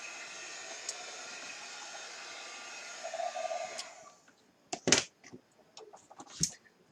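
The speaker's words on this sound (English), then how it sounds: "I believe my heat gun is heated up." A heat gun blows for about four seconds as a steady, close airy hiss, used on chalk-paste floral craft work, then switches off, leaving brief clicks and handling noises.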